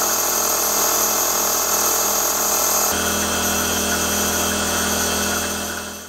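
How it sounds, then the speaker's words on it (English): A milling machine with a 45 degree dovetail cutter chamfers the top edges of a faceplate, a loud steady high-pitched machining whine with a constant motor drone, shifting slightly in tone midway and running throughout. "Next, I'll chamfer the top edges."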